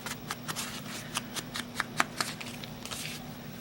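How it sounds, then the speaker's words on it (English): Crinkled paper edges are rubbed with a Vintage Photo ink pad in a series of quick dry rustling swipes and crackles, close and fairly soft over a faint low hum. "I'm going to use Vintage Photo and ink up all my edges and run it along both sides."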